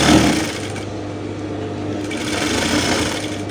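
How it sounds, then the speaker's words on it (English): A sewing machine stitching the flare flounce on a dress, running as a loud, steady, continuous whir close up with no talking. "So I'm just sewing it now."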